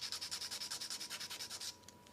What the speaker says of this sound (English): Okay, I'm finishing with filing.